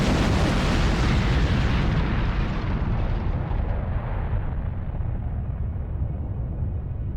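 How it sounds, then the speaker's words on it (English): Massive explosion in the Zone of the Enders: The 2nd Runner video game as a huge object detonates near Mars, a loud sustained roaring blast that slowly decays over several seconds with no voices. "it detonates and explodes, with Mars losing one of its moons in the process"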